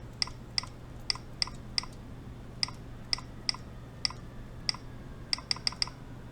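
Sparse, crisp clicks from key presses on a prototype TK mechanical keyboard, a dozen or so single taps at irregular intervals, quickening near the end, over a low steady hum.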